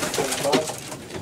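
A racing pigeon at a Romanian pigeon-flying club event in Floresti, Prahova, gives a soft, throaty coo close by, a single rolling call over faint background noise.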